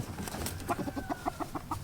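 A rooster in a backyard coop gives a run of soft, rhythmic clucks and short calls, close by and moderately loud, with no talking over it.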